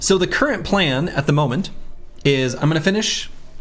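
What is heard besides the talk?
No distinct noise like a dog, phone or traffic.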